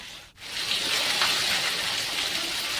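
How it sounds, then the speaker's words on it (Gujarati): Heavy monsoon rain falling across Banaskantha in North Gujarat, a dense, steady hiss of downpour that runs close and loud after a brief dip at the start. "વહેલી સવારથી સમગ્ર જિલ્લામાં વરસાદ શરૂ થઈ ગયો છે।"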